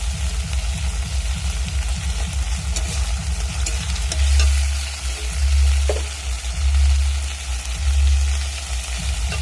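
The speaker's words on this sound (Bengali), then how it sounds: "মশলাটা ভালো করে কষানো হয়ে গেছে" Spices and tomato frying in a pan for a rui fish curry with cauliflower, potato and peas, a steady close sizzle with stirring scrapes and a low rhythmic rumble of the stove underneath.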